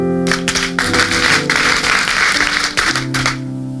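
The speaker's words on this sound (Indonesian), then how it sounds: "Kasih tepuk tangan untuk Tuhan." A church congregation claps loudly during a sermon while sustained organ or keyboard chords ring underneath, the hand claps forming a bright, busy texture over the music.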